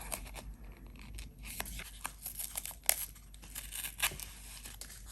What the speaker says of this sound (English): I'm gonna tear this a little bit smaller than I had originally planned.